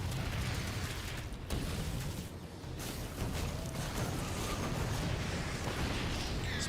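Explosions as tanks are destroyed in a StarCraft II match: a continuous loud rumble of booms and bursts layered with mechanical battle noise, dipping briefly in the middle before surging back.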